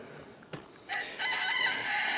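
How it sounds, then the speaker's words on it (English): A rooster crows outdoors, a single loud cock-a-doodle-doo rising after a brief thump, close and clear with no talk. "He just does not want to stop crowing whenever I'm outside."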